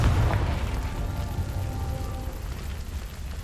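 A Confringo spell blast in Hogwarts Legacy, a loud booming explosion at the start that rolls off into a long rumbling tail of debris and low noise.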